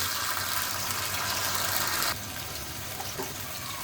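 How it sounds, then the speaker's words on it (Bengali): Water poured into a frying spice mixture of onion, ginger garlic paste and cumin, a loud broad sizzling rush that drops suddenly to a quieter steady simmering hiss, close up and without speech. "কষানোর জন্য দিলাম একটু পানি"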